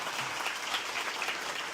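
Steady applause from an audience cheering arts and music education at a campaign event, dense continuous clapping without pauses throughout.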